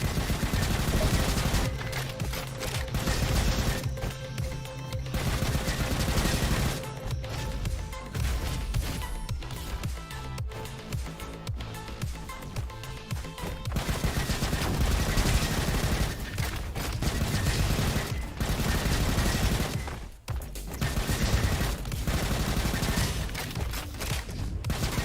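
A spun-up automatic weapon in the robot shooter Roboquest fires in long sustained streams, dense and loud, broken by short pauses and crashing impacts, with a game soundtrack underneath.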